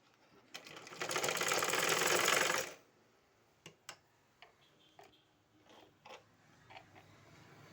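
A sewing machine stitches folded cloth in a short, fast, buzzing run of about two seconds, followed by a few quiet mechanical clicks and ticks as the fabric is handled.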